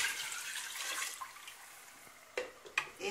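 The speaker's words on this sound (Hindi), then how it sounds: "अब इसमें मैं पानी शामिल करूंगी" Water pours into a pot of beef paya that already holds oil and fried spices, making a steady splashing hiss broken by a few brief bursts near the end.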